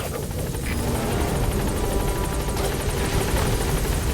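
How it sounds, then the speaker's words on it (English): Loud, continuous support helicopter rotor chop and engine whine in Metal Gear Solid V, close and steady from start to end. "Support helicopter has arrived."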